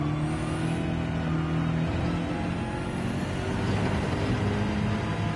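Race car engine in Gran Turismo 7 holds a steady, loud drone with layered harmonics, with a faint pitch rise near the start and end, running continuously without talk.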